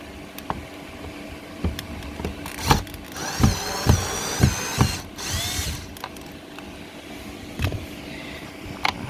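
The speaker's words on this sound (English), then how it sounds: "Let me get my drill real quick" A cordless drill removes screws from a 2019 Honda Accord Sport interior in short whirring bursts, with clicks and knocks of handling between spins; no one speaks.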